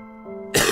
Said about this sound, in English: I'm just coughing constantly right now